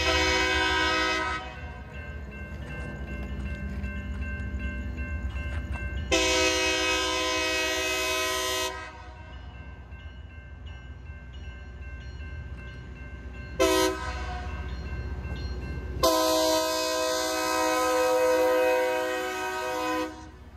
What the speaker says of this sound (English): I was able to catch the Loram rail grinding train working on the Florida East Coast Railway mainline